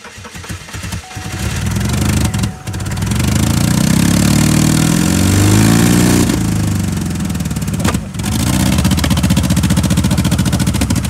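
A GMC truck engine idles loud and steady while warming up, a continuous rumbling drone with two brief dips in level, no voices over it.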